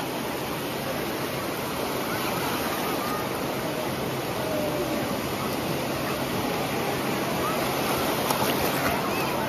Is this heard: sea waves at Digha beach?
yes